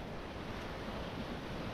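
Ocean waves break continuously on a beach at Praia de Angeiras, north of Porto in Portugal, making a loud, steady roaring surf with wind buffeting the microphone and no talk.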